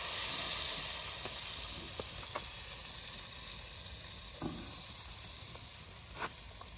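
Garlic and coriander paste sizzling in a pan while cooking dal bati, a steady soft frying hiss with occasional faint stirring clicks and scrapes, fairly quiet and close.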